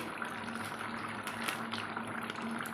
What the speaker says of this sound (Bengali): আর একটু সামান্য ফোটাবো, ফুটিয়ে নামিয়ে নেব।